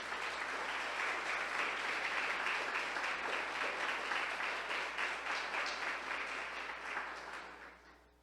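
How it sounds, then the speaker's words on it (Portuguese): A church congregation applauds during a Portuguese-language sermon, a dense, continuous wash of many hands clapping that holds steady for several seconds and then fades away at the close. "Aplauda a Jesus por isso."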